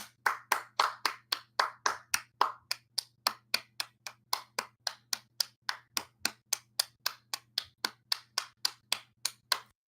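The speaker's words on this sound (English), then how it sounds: "Let's give Ibubot a round of applause." Steady, evenly spaced hand claps, about three or four per second, sharp and fairly close, continuing for several seconds with a faint low hum underneath.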